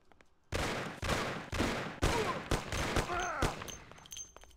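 A Thompson submachine gun fires in the video game Mafia, a rapid string of loud, close gunshots in short bursts lasting a few seconds before trailing off.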